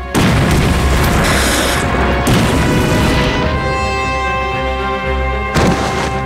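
Artillery shell fired in a war film about the Sino-Japanese war: a loud, close boom erupts and rolls into a long rumbling explosion with debris and ringing, then a second blast near the end.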